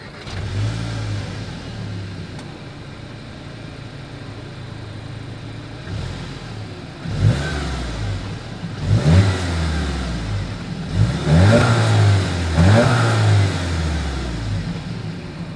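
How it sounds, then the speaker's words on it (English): A 2021 Volkswagen Jetta GLI engine idles with a low rumble, then revs up several times in loud bursts through the exhaust before settling back. "As always, here is that exhaust clip."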